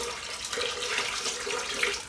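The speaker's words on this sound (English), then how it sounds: "Some more cold water, and we'll let this go for one more time." Steady cold tap water pours and splashes into a bowl while rinsing homemade butter, a continuous close hiss with no talking.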